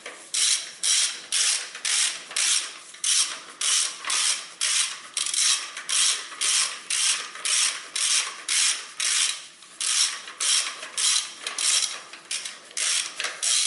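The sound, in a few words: ratchet tool fastening bolts on a Honda Civic engine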